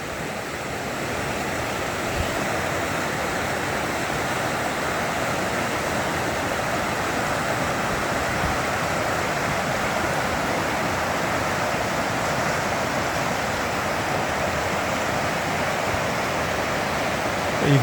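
A river flows steadily below an overgrown, fire-burned hillside, producing a constant broad rushing wash that is fairly close and unbroken throughout, with no voices.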